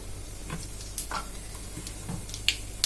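Mustard, fenugreek and cumin seeds sizzle in hot oil for a Tamil sambar rice dish, with faint crackling, a few sharp pops near the end and soft stirring clicks over a low hum.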